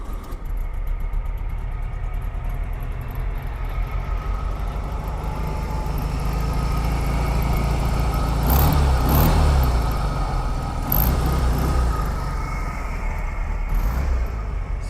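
A 1966 VW Beetle's small air-cooled engine runs steadily, swelling as it revs harder around the middle and easing off again, loud and close with no talking.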